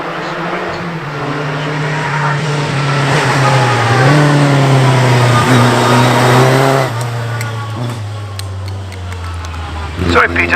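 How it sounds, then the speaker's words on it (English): A vintage racing car at the Prescott hillclimb holds a steady, loud engine drone with rising and falling pitch as it accelerates past, and a brief louder burst comes near the end. "just a very pretty looking piece of racing machinery, isn't it? It's private driving that car."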